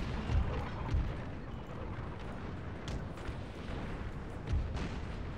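Gunfire and distant artillery booms from a Napoleonic battle in the Napoleon: Total War video game, a continuous dull rumble of muffled volleys with a few heavier low thumps.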